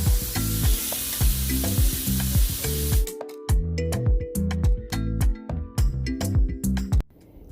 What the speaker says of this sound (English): I'm gonna flip over the pork chops and cook them on the other side for another 6 minutes